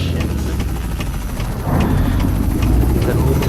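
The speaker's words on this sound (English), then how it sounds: "that helicopter kind of goes up and down basically all the time" A helicopter in the video game American Truck Simulator drones steadily with a loud, continuous rotor thrum and low engine rumble that swells slightly midway.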